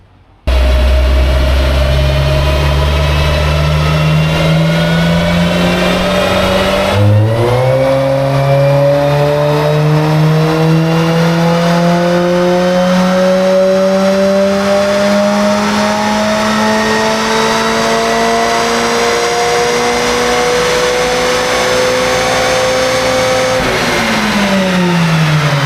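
A naturally aspirated 2.0-litre Mazda ND2 Miata engine revs on a dyno, holding one loud, steady pull that climbs in pitch for about twenty seconds, with a brief lift and gear change early on.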